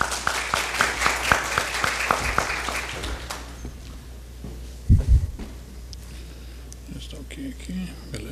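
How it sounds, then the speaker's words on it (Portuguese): At a business event, an audience applauds with brisk claps for about three seconds before the clapping fades, then a low rumble of room noise and a soft thud remain. "Uma salva de palmas."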